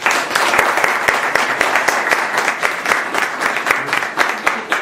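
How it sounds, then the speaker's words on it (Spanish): Audience applause at an evening talk, dense overlapping claps sustained steadily throughout without a break, fairly loud and close, with no voices on top. "vamos a enviar acá al doctor con un voto de aplauso"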